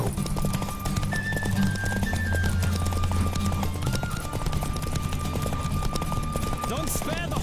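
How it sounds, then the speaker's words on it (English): A horse gallops in The Witcher 3, its rapid clip-clop hoofbeats running continuously under game music, with a brief whinny and voices talking over the race. "Don't spare the horse!"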